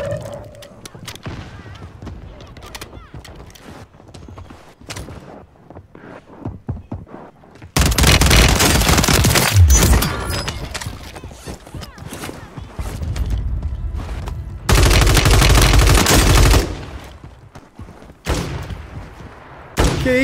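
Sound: Rival 9 gunfire in the video game Warzone

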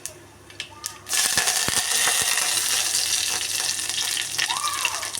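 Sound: curry leaves sizzling in hot oil for rasam

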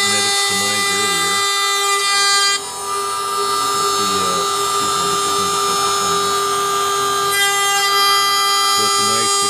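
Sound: CNC machine cutting with solid carbide router bit

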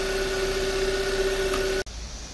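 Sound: car engine idling after jump start, Korando Sports

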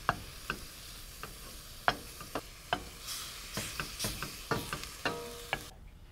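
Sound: ground beef cooking, stirred with a wooden spoon

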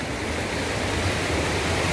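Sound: waterfall at Balneário São José

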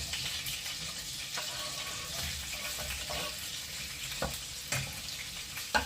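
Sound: onion frying in melted butter and oil

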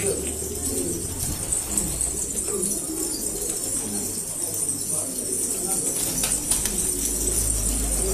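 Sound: pigeons cooing at a Gaziantep pigeon-selling cafe

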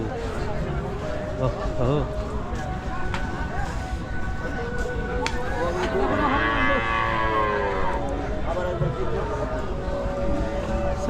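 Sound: cattle and small local red calves mooing at cattle market

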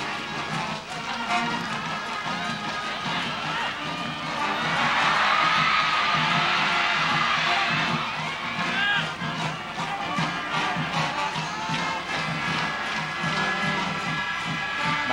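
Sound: crowd of students cheering from back stand at football match

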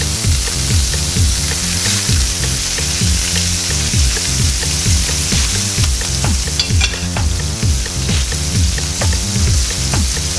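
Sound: steak sizzling in hot oil

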